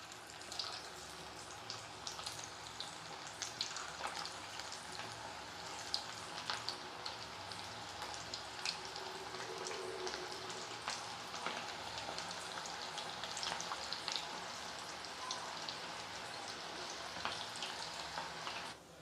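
Banana flower pakoda deep-frying in hot oil, a steady dense sizzle and crackle that holds at an even level throughout, with no talk over it.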